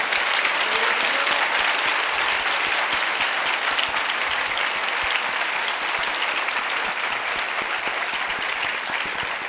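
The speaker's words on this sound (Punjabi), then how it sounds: "ਜ਼ੋਰ ਦੀ ਤਾਲੀ ਵਜਾਓ" A church congregation at a Sunday service claps loudly and continuously, a dense, sustained wall of applause with no pauses.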